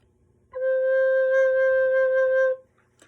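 Soprano recorder sounding a single sustained middle C, a clear, pure whistle-like tone held steadily for about two seconds in a quiet room.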